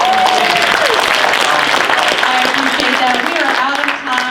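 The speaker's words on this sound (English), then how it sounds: "She deserves a round of applause." Loud, sustained applause from the audience at a town hall meeting, a dense continuous clatter of clapping with voices and cheers mixed in throughout.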